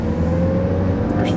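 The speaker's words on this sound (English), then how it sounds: "Backing out of the driveway here." A 1985 Toyota MR2 backing slowly out of a driveway, its engine a steady low hum and rumble close by, with a faint rising whir near the end.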